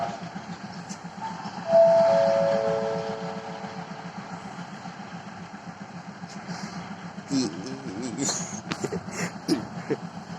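Local train 428 pulling into a platform at Si Sa Ket station in Thailand: a steady low engine rumble with a sustained horn-like tone, then brief clanks and rattles near the end, under an announcer's voice.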